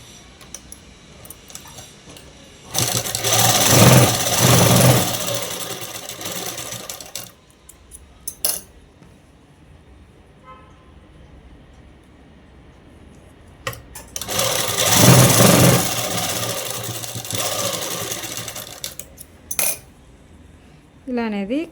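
Sewing machine running a straight stitch on fabric for a child's frock: two rapid mechanical whirring bursts of several seconds each, close and loud, separated by quiet handling clicks as the cloth is adjusted.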